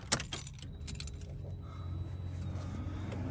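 Keys jangling up close inside a Foxbody Mustang, a few bright metallic rattles at the start, then quieter handling over a low steady hum.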